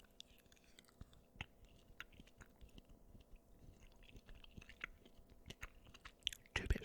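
Soft close-up chewing of crunchy chocolate in a quiet room, with a few small crisp crunches and wet mouth sounds scattered through, ending in a slightly louder burst.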